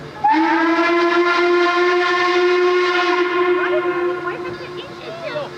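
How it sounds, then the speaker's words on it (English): A loud, sustained train whistle blows for several seconds, steady and harmonically rich, then fades slightly, with low rail rumble beneath. "That's a whistle."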